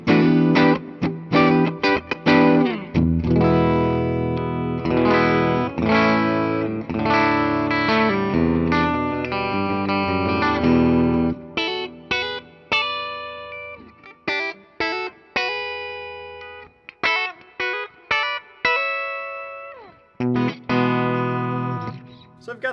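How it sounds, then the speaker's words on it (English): A 2008 Gibson Les Paul Custom with three pickups, played on the middle pickup, rings out in clear chords and single notes with short pauses between phrases, loud and close. "So with your middle pickup, it gives you slightly more single coil-like tones."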